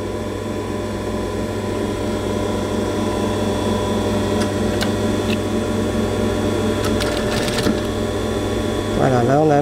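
A sewing machine stitches folded cotton or linen fabric for a 1900-style bonnet, giving a steady mechanical whir with rhythmic ticking throughout, some clicks near the end and a voice speaking briefly over it.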